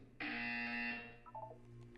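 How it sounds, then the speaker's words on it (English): A single electronic buzzer tone in Portal 2 sounds for under a second, a loud steady harsh buzz, followed by a faint brief electronic blip. "You will hear a buzzer. When you hear the buzzer, look up at the ceiling."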